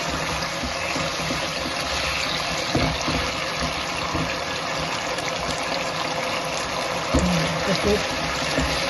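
Water poured into a pan of potato curry to loosen it into a light gravy, a faint continuous splashing and trickle with occasional soft clinks of the pan.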